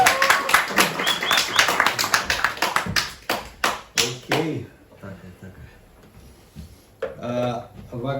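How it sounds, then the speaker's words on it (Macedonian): A small audience at a Macedonian church gathering claps in a brief burst of close, sharp, uneven handclaps that thin out and stop, followed by someone talking. "Еден аплауз за тоа."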